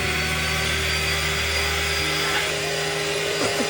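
An electric mixer whirs steadily, whipping cream with milk added for a homemade trifle, a loud continuous motor drone close by with no speech.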